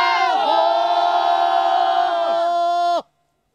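A group of voices lets out a long, sustained battle cry together atop the mountain fortress of Wunü Mountain Fortress, loud and unified, ending abruptly after about three seconds.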